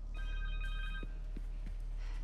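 A cell phone rings inside the Spider-Man 2 video game, a steady electronic ringtone with repeated tonal pulses for about a second over low game ambience, followed by a few soft thuds.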